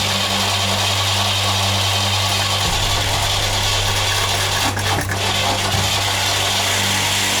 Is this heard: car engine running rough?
yes